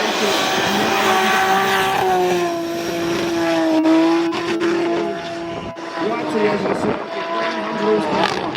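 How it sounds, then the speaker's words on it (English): A BMW drift car at a Drift Masters round at Ahvenisto, its engine screaming at high revs with tonal whine rising and falling, mixed with tire noise and commentary over the top. "A BMW power screaming as he puts it onto the wall, looks for the final outside zone."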